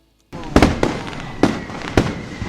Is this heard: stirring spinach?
no